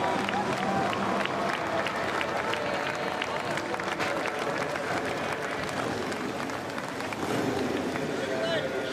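Fans inside U.S. Bank Stadium applaud a Harley-Davidson Hooligan racer's victory lap at an X Games event, a steady, dense wash of clapping and crowd noise lasting throughout at constant loudness.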